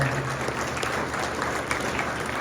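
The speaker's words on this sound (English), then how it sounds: "give yourselves a big round of applause for your support and your help" A crowd applauds at an event in the Navajo Nation, a continuous, fairly even wash of clapping from many people with a faint low hum beneath it.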